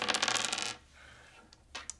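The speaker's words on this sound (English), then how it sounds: "When I roll the dice," Dice rolled in a Shut the Box board game, a dense clatter of rattling bounces for most of a second, then quieter pause and a couple of final light clicks as the dice settle.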